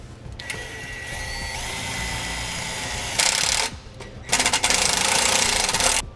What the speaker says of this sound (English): to install a fastener, we'll need a drill and we'll need a 5/16 nut driver.